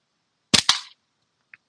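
Two quick sharp cracks from slingshot ammo striking a can sound close together, followed by a faint small tick, with silence around them.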